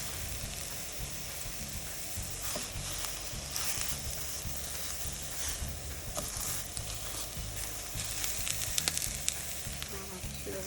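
Eggplant slices sizzle steadily in hot oil, a continuous crackling fry with occasional sharper pops throughout, close and fairly loud with no talking.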